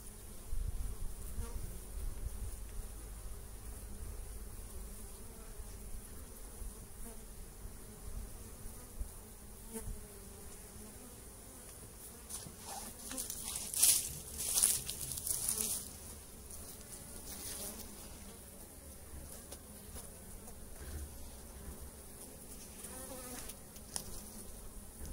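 Honeybees drone steadily and closely during a March hive inspection while brood frames are lifted and the queen is spotted, a continuous buzz that swells briefly when some fly nearer.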